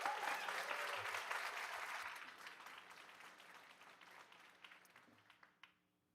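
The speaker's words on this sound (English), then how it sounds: "One more round of applause for Coach Beth Afliji." Audience applause at a school board meeting during a teacher award presentation, steady and fairly loud at first, then thinning out and fading to scattered claps before stopping near the end.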